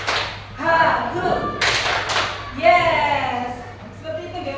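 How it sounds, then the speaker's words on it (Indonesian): Group of teachers clapping in unison during a concentration clap routine at a training session, a few sharp collective claps between chanted syllables and voices leading the rhythm. "Tepuk konsentrasi."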